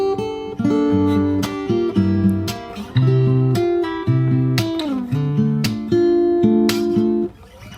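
Fingerstyle acoustic guitar playing the opening bars of a chorus from a song, clear plucked melody over bass notes with a slide, steady rhythmic phrases, close and solo.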